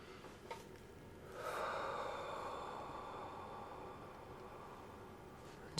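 A slow, deep breath drawn in through the nose, then a long, soft exhale out through the mouth. The single breath is faint and close, in a quiet room.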